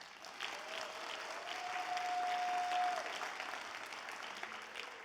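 Audience applause for candidates at a Latino and immigrant Senate candidate forum in California, a steady wash of clapping from a crowd lasting several seconds, fairly distant and moderately quiet, with a brief tone running under it.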